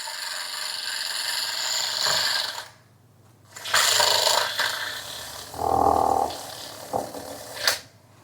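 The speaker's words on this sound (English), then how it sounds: "Whisk it up." Electric mixer attachment whisking a protein shake, a loud close buzzing whir that runs, stops briefly, then resumes in short bursts with small clinks between.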